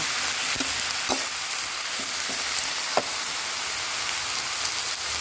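Kale and canned fish stir-frying in a small pan, a steady close sizzle with a few scraping stirs of the spatula, no voices.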